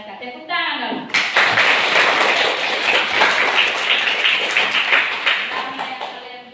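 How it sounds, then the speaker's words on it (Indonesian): A school class claps hands after a student role-play, bursting in suddenly after a brief voice and continuing as a dense, even patter of many hands, close and loud. "Tepuk tangan dong."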